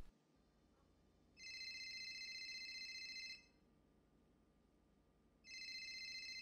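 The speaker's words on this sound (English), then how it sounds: "I don't like telephones ringing when we're doing therapy." A telephone rings in two long, steady electronic bursts separated by a pause of about two seconds, bright and clear against a quiet background with no voices.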